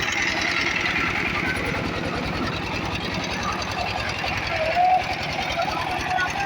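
A snack-making machine producing pola runs continuously with a dense, steady rattling chug and rapid mechanical pulsing, loud and close throughout.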